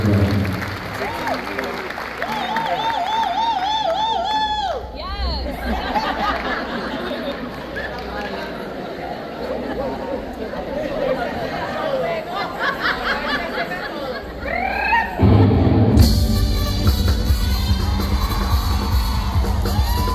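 Audience applause and cheering for a merengue pioneer at a Lehman College event, a dense crowd roar with whoops and chatter mixed with music-like tones, swelling louder near the end.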